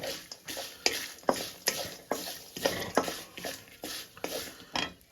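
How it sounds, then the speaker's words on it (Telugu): Leftover rice mixed with turmeric in a pan, rhythmic scraping and clinking strokes of a ladle against metal about twice a second over a faint sizzle, close by with no talking. "సరిపడంత పసుపు అండి ఇది మనకు అన్నాకి సరిపడేంత పసుపు బాగా కలుపుకుందాం"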